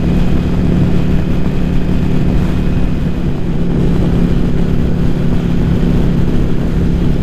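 A Yamaha Virago XV750 bobber motorcycle cruising on a highway, its engine drone steady and loud with heavy wind rush, continuous and unbroken throughout.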